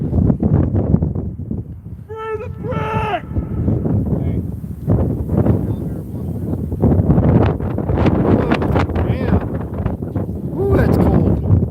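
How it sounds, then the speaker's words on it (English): Gusts of cold wind buffet an outdoor microphone during a protest, producing loud, uneven low-frequency rumbles that surge and ease, with people talking nearby and a brief squeaky whine early on. "It's cold and windy."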